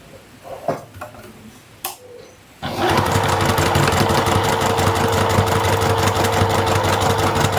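A sewing machine stitches a fabric zip-around clutch, starting after brief quiet handling noises and then running steadily and close at an even motor whir.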